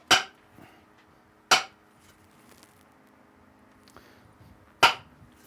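A hammer strikes a wooden axe handle seated in its metal head, giving three sharp, distinct knocks spaced unevenly apart, each ringing briefly before fading into a quiet room.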